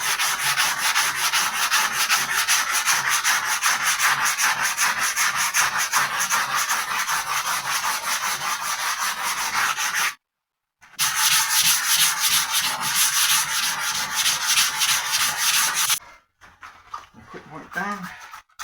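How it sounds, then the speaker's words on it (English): Rapid, rhythmic scratchy rasping of 80-grit sandpaper over foam rubber sanding body filler back and forth, loud and close, pausing briefly twice; a short bit of talk near the end. "we'll do the first sanding using an 80 grit"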